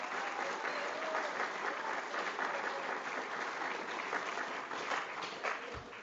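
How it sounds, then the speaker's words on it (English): Steady applause from a crowd, continuous clapping at an even level throughout. "Let's give them a round of applause, the ones with the white shirts on."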